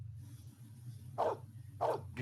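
Maggie, a dog in the film Blade Runner, gives two short, moderately loud barks about half a second apart over a low steady hum.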